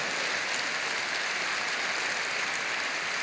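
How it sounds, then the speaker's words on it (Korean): Congregation in a church clapping to welcome a guest, a dense steady wash of applause filling the room, alone without speech. "일어나시죠. 박수로 환영하시죠."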